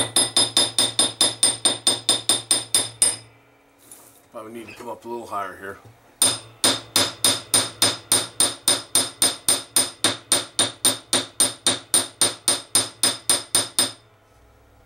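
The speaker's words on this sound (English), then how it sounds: "I'm just going to use a chasing hammer." Rapid, evenly spaced metallic taps of a small chasing hammer striking metal wire on a jeweler's bench, close by. The taps pause briefly while a voice speaks, then resume steadily.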